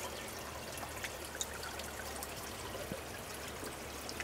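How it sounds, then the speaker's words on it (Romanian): Fresh spring water pours and trickles into containers beside a valley road in Romania, a steady close splashing stream running throughout with no talk. "Facem din nou stoc de apă proaspătă."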